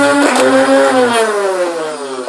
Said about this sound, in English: Rev up the motors and fire.